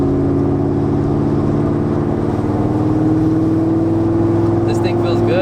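Inside a Ford Mustang, the engine drones steadily as the car pulls through the gears into third, a loud continuous low hum with rising tone and faint rattles near the end.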